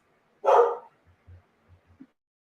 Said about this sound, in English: I went to mute it to holler at the dogs and then they stopped barking